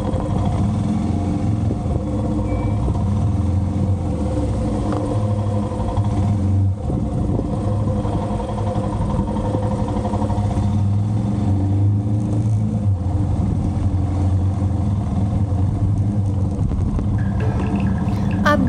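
Vehicle engines on a narrow mountain road in Spiti Valley, a continuous close rumbling drone with a steady motor note under wind, lasting throughout with no speech.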